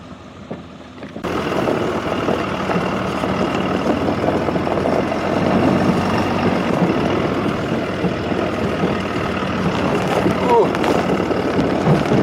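A pickup truck loaded with five freshly taken whitetail deer pulls away after an Alberta hunt, its engine a steady close rumble that sets in after a brief quiet start and holds for the rest of the clip.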